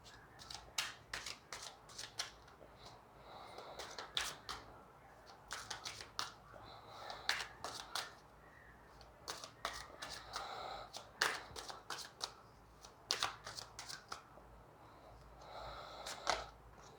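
A deck of Prism oracle cards being shuffled by hand, with soft repeated riffling flutters and slaps in irregular bursts throughout, fairly quiet and close, with no talking.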